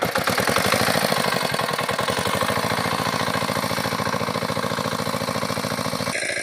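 A small machine engine runs at a steady idle beside a canal in the Sundarbans, its loud, close chugging pulsing evenly throughout before cutting off abruptly at the very end.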